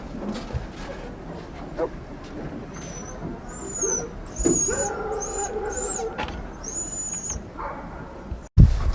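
Sled dogs at the Can Am sled dog race in northern Maine give several high whines and yips over a busy outdoor background with scattered thumps and handling noises, ending in a sudden loud bump.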